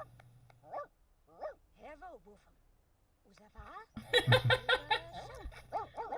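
A dog in The Sims video game barks in a series of short, clear yaps, spaced at first and then quicker and louder, while a voice speaks over the later part.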